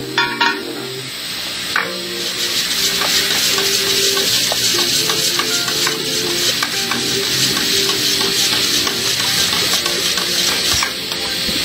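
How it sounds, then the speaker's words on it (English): Paint being stirred and mixed for painting a Gendron bed, a steady wet churning and hissing scrape that runs almost continuously, with a few sharp taps and clinks against the container near the start and end. "We need to mix the paint."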